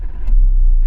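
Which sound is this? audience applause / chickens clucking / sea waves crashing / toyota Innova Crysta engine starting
toyota Innova Crysta engine starting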